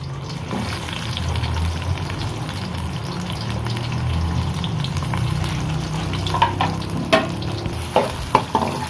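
Onions frying in hot oil make a loud, continuous bubbling sizzle close up. Several sharp scraping knocks of a utensil on the pan come toward the end.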